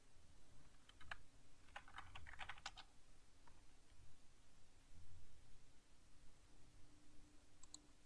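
Computer keyboard typing, a quick cluster of faint key clicks early on and a few isolated taps later, over a steady low background hum.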